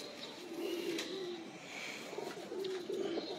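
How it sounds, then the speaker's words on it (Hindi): An old-breed pet pigeon (10 number colour) coos in soft, low, repeated rolling phrases close by, with a few faint higher chirps above it and no talk. "पूरा कबूतर दिखाइएगा"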